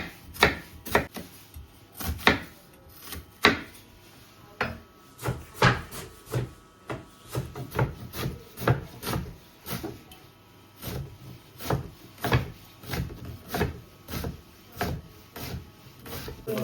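Onions are chopped on a wooden board with a knife, a steady series of close, crisp knocks in an uneven rhythm continuing throughout, with a faint hum behind.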